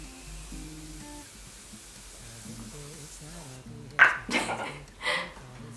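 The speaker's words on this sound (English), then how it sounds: "I'm gonna go in with my setting spray." A makeup setting spray bottle is shaken and spritzed near the end, giving a couple of short close hissing bursts after a quiet stretch with soft background music.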